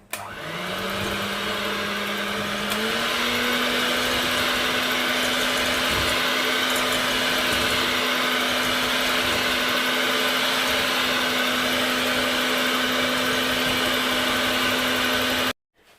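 An electric hand mixer beats nougat in a bain-marie, a loud, steady motor whine that rises slightly in pitch early on and holds constant before cutting off abruptly near the end.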